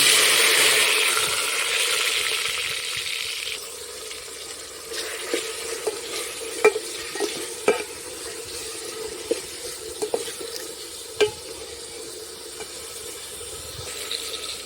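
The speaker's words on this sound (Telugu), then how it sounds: "ఆయిల్ కాస్త హీట్ అయిన తర్వాత ఇందులో కొద్దిగా ఆవాలు వేసుకోవాలి అలాగే మనం కట్ చేసి పెట్టుకున్న ఆనియన్ టమాటో కరివేపాకు కూడా" Mustard seeds, onion, tomato and curry leaves frying in hot oil over a wood fire, with a loud hiss at first settling into a steady sizzle broken by scattered pops and clinks of stirring.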